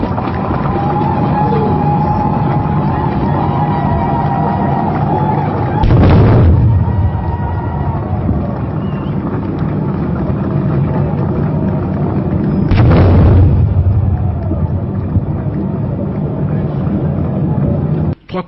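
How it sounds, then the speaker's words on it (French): Ceremonial cannon shots fired at the ceremony marking the new constitution of the Democratic Republic of the Congo, two heavy booming blasts several seconds apart over a continuous loud crowd and ambient background. "Trois coups de canon retentissent à nouveau"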